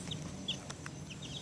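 Young chicks giving faint, brief high chirps and soft clucks, a handful of calls scattered over a low steady background.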